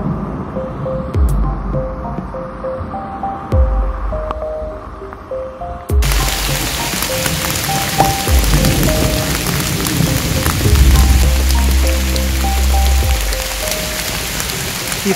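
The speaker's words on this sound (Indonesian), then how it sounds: "Kita dilanda hujan deras banget, hampir mendekati di pos 4." Heavy rain pours steadily on the slopes of Mount Slamet, a dense, loud hiss that fills the whole clip and grows fuller after a sudden rise partway through, with no voices.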